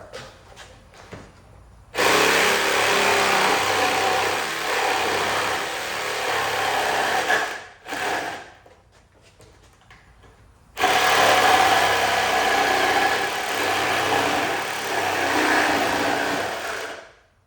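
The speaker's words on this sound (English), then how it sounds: "that jigsaw's so bulky, I don't know how far I'll be able to go down" Jigsaw cutting through wood on a model ship build, two long loud bursts of sawing separated by a short pause with brief start-stop blips, a quieter rumble before the first cut.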